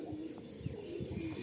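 Malwai pigeons from Punjab coo in short, soft repeated calls, close by, with little else around them.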